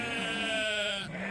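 Sheep bleating in a farm field, one drawn-out close bleat with a wavering tone lasting about a second.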